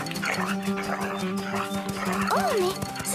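Hunting dog barking and whimpering among voices, with short yips and a rising-falling whine, close by and partly masked by people talking.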